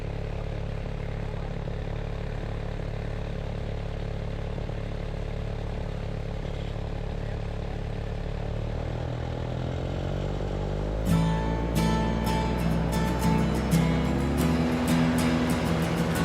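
A 313cc paramotor engine runs steadily at low throttle with a constant droning hum, then roars up in pitch and volume for takeoff with a rougher, clattering buzz, heard close and with no talking.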